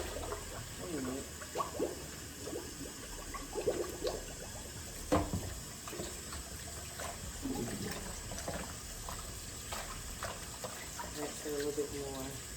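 Tap water runs into a kitchen sink as something is rinsed, a quiet, steady splashing stream with intermittent clatter and voices talking nearby.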